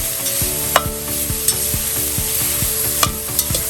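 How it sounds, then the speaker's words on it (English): A carrot ginger chicken noodle stew stirred in a pot, a continuous close sizzle under rhythmic scraping strokes of a spoon, with a few bright clinks against the metal; no voices. "Give all that a good stir"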